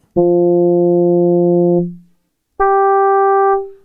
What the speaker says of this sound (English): It does sound like a brass instrument, doesn't it? Trombone.